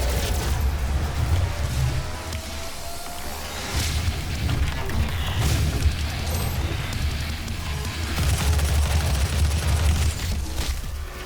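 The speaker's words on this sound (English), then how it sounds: "Test out our new guns." Rapid gunfire and heavy booming blasts from weapons in the video game Doom 2016 fill the scene, with dense bursts and explosive impacts continuing almost without pause.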